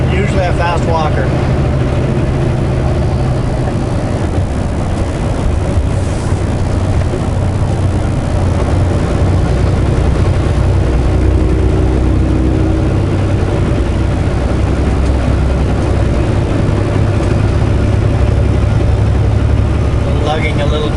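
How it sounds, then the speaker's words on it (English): A semi truck hauling a wide load drones in 17th gear, its heavy diesel engine lugging with a loud, steady low rumble throughout while someone talks over it. "Lugging a little bit there in 17th gear."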